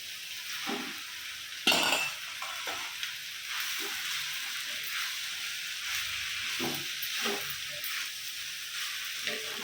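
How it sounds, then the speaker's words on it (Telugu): Rice is stir-fried in a pan with a little oil for street-style paneer fried rice: a steady sizzling hiss under repeated scraping strokes and occasional utensil clinks against the pan. "ఇప్పుడు రైస్ వేస్తున్నాను"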